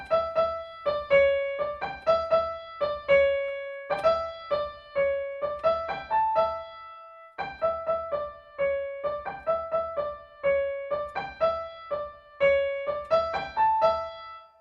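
Keyboard playing the melody of the Ganesh Aarti "Ek Dantay Vakra-tundaya", a steady run of distinct notes with one brief pause midway, close and clear, no voices.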